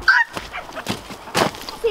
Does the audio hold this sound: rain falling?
no